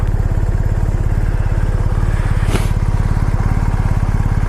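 A 2019 BMW R1250GS HP motorcycle engine idles close by with a steady, rapid low thumping that stays even throughout.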